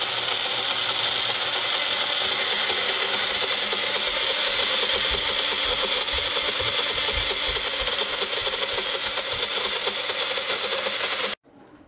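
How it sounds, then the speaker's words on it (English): A Magic Bullet blender pureeing mangoes, a loud continuous whirring motor grind with a churning rattle, close and steady, stopping abruptly at the end. "I got the mangoes put into our magic bullet and I'm gonna turn it into a"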